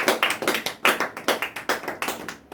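A church congregation claps together in a fast, steady rhythm, close and crisp, with no talking.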